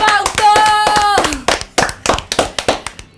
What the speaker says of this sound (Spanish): quiero que le demos un fuerte aplauso a Fausto.